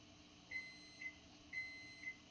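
An oven signals that preheating is done with two quiet pairs of short electronic beeps, spaced about a second apart, over faint room hum.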